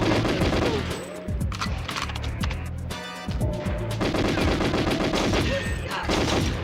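Rapid bursts of gunfire from the video game Goldeneye 007 on 00 Agent difficulty, repeated automatic shots with short pauses, loud and close, with game effects around them and no talk.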